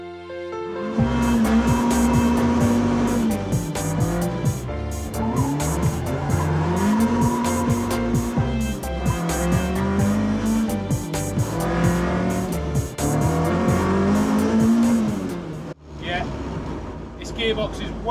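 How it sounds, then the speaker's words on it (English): A car engine with a limited-slip differential revs up and down repeatedly as it drives, the pitch climbing and dropping through gear changes, loud and close. "take this car for a test drive to test the LSD out"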